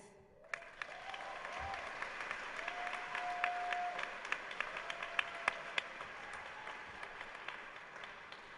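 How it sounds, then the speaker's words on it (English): A large audience at a high school graduation ceremony applauds the graduating class, with steady dense clapping heard from a moderate distance that continues for the full span. "we applaud your success"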